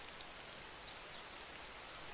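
Steady rain in the video game DayZ, a soft, even hiss of drops on surfaces that stays constant and faint with no voices over it.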